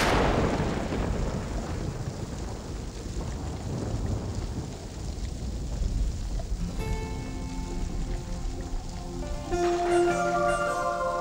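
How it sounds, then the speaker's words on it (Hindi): Heavy monsoon rain falls steadily in Mumbai at the first downpour of the season, a dense, loud hiss with low rumbles; gentle music comes in partway through. "मानो मुंबई की पहली बरसात"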